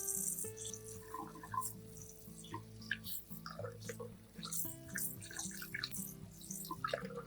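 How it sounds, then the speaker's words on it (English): Tap water runs and splashes quietly as garlic peels are rinsed, with soft dripping and light rattling from handling in a sink. "I rinsed the garlic peels 1 or 2 more times under running water to make sure they were completely clean"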